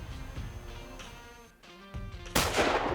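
A hunting rifle fires a single sharp, loud shot at a range in New Zealand's high country while the rifles are sighted in, following a stretch of low rumbling background noise.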